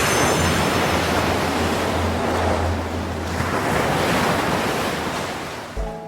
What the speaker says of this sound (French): Si vous filmez la mer, mettez un bruit de vague.